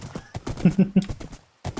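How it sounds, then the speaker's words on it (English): Skeleton horse in the Minecraft video game, giving a quick series of short, close, hollow bursts with brief pauses between them, followed by a gap of silence and one last burst. "there's my other skeleton horse"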